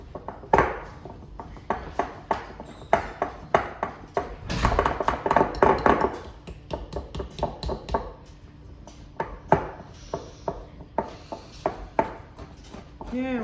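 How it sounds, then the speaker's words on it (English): Chocolate dessert batter stirred by hand in a bowl, with repeated clinking and scraping of a utensil against the bowl in an uneven rhythm, joined by a person talking partway through. "Now it's starting to mix up good."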